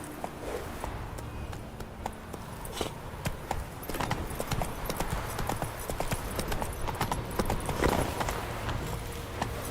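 A horse gallops in the video game The Witcher 3, its hooves clip-clopping in a fast, steady rhythm throughout, loud and close.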